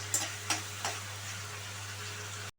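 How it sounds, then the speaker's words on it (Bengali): Onion browns in a pan for Hyderabadi mixed dal tadka, giving a soft, steady sizzle with a few faint stirring clicks and no voices. "পেঁয়াজটা কিন্তু ব্রাউন করে ভেজে নিতে হবে, যেমন বেরেস্তা করে"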